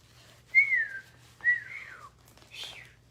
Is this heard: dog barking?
no